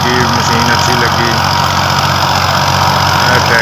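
A New Holland 5556 tractor with its diesel engine running at steady idle nearby, a continuous low rumble with no pauses, heard alone with no talk.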